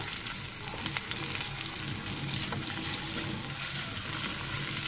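Chopped onion and four garlic cloves frying in oil until brown, a dense, continuous close sizzle with faint bubbling and occasional soft clinks, no voices.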